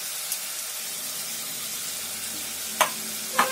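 Chopped tomatoes hit hot mustard oil in a hilsa curry, giving a steady soft sizzle with a few brief clinks or scrapes near the end. The sound is fairly quiet and close, with no talking.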